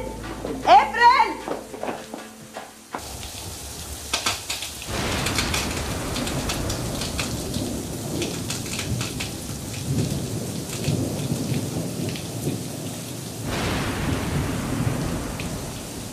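Heavy rain pouring down in a thunderstorm, a steady loud hiss of water hitting surfaces with rumbling thunder, after a brief opening of people talking; the downpour continues to the end.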